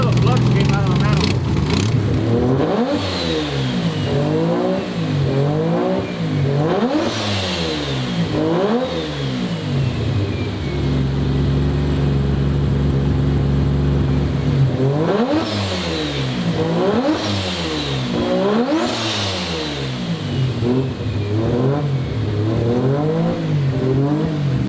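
A turbocharged two-rotor rotary car engine revs hard again and again, rising and falling in repeated throttle blips and sustained high-rev pulls, loud and close throughout.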